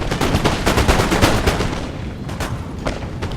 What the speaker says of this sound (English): And here's the first fire being laid down.